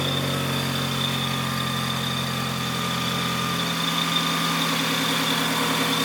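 A turbocharged 2G DSM car engine idles steadily after starting, with a constant low hum and faint mechanical whine, running smoothly and unbroken throughout.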